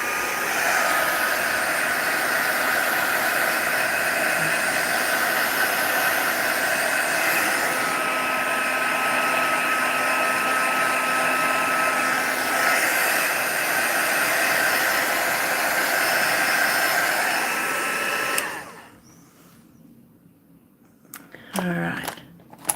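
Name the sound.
Crafter's Choice heat tool drying alcohol ink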